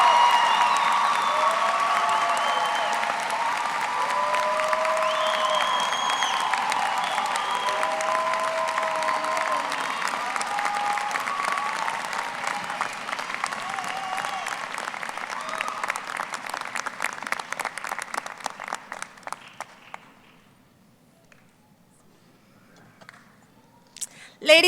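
Sustained audience applause at a high school graduation ceremony, dense clapping from a large crowd that gradually thins out and fades to near silence at the end.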